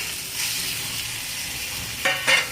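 Green chillies fry in onions in a pan, giving a steady close sizzle with a burst of louder crackling near the end as they are stirred.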